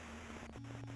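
Steady broadband white-noise static from the video game You Will (Not) Remain, a continuous hiss with a low mains-like hum beneath it, level and unbroken throughout.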